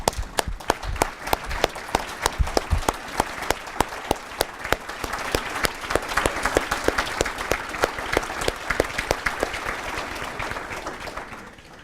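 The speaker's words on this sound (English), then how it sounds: "stand up and give a round of applause to Maddie, Tanner, and Sam" An audience at a YMCA annual meeting claps in a sustained round of applause, dense, even and close, with no voices over it.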